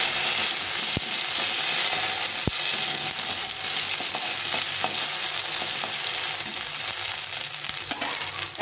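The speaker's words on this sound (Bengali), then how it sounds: "মশলাটা একটু ভাজা ভাজা হয়ে গেলে" Spices frying in oil make a steady, close, hissing sizzle, broken by a couple of sharp utensil knocks and light stirring scrapes, and no voice is heard.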